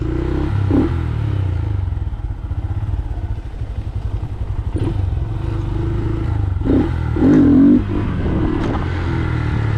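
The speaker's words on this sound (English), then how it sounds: "Just rev it up a couple thousand and just drop it." A Honda Grom motorcycle idles and revs close up, then its clutch is dropped for a wheelie. The engine thrums loud and steady, with a few rising revs and some clattering mechanical noise.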